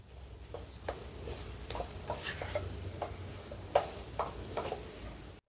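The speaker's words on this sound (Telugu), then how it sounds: "కొంచెం ఇలా స్మాష్ చేస్తూ కలిపితే మనం వేసిన ఈ పొడులు బాగా కలిసిపోతాయి" Potato mixture being mashed and stirred with cumin and coriander powders in a pan, giving faint soft scraping and tapping strokes at an irregular pace, with no talk.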